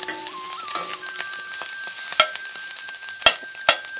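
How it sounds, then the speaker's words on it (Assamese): Fish frying in a pan with a little onion added, producing a steady soft sizzle broken by a few sharp pops and clicks, with a faint tonal whine running underneath. "মোৰ মাছ ফ্ৰাই কৰা হৈ গৈছে ইয়াত অলপমান পিঁয়াজ দি দিছোঁ"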